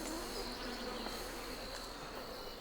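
A steady, dense buzzing of many honey bees swarming close by, droning continuously without pause.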